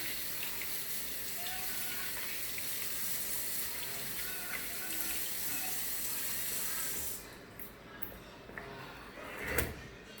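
Water from a kitchen tap runs steadily while hands are washed at a sink, a continuous close splashing hiss that stops near the end, followed by a few faint knocks and a brief bump.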